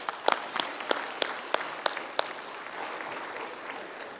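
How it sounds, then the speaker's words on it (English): Audience applause at an Islamic finance forum session, a crowd clapping with a few sharp claps standing out early before it settles into an even patter, with no talk. "If you can give them a round of applause."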